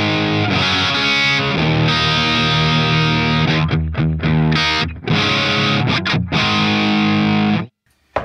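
Electric guitar played through channel two of a Diezel Schmidt amplifier, heavily distorted sustained chords and riffs with brief choppy stops, loud and close, ending abruptly.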